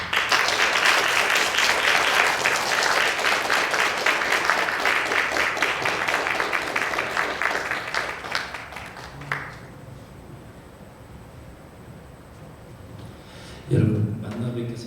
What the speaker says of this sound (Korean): 우리 선교사님 나오실 때 큰 박수로 환영해 주시면 감사하겠습니다.